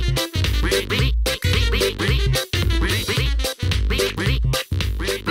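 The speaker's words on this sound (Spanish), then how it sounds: "Hola, Pato. ¿Vas a nadar?" A cartoon duck quacks in a children's animated series, a loud run of nasal quacks in quick bursts with short pauses between them, carrying on steadily with no talk over it.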